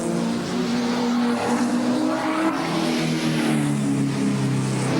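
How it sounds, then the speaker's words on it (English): A Nissan GT-R race car runs in wet, slippery conditions at Bathurst in 1992, its engine drone changing pitch as it revs and shifts, heard steadily throughout. "Mark Scaife, hard at work in the lead Nissan GTR."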